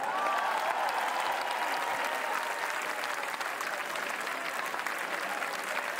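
Enthusiastic live-concert applause for the choir at a symphonic show in Ascoli Piceno, continuous and dense from a large crowd, holding steady throughout.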